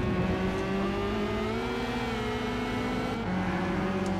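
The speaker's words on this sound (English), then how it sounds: "That car sounds like a whining cat." Pagani Zonda race car in Gran Turismo 5, a loud sustained engine whine with steady high harmonics holding near one pitch, dipping briefly as the car shifts, alone without talk.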